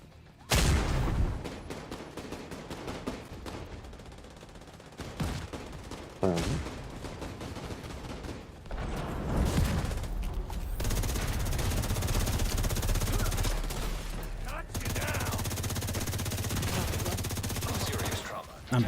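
Sustained gunfire in The Division 2 during the Iron Horse raid: bursts of rapid automatic fire and heavy shots, dense and loud, with a long continuous stretch of shooting and speech underneath.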